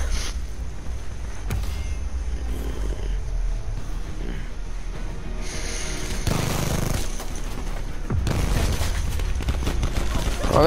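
Gunfire in Call of Duty Black Ops 4 heist mode, sharp bursts and rapid automatic volleys cracking loudly at irregular intervals, with booming impacts and a low rumble underneath.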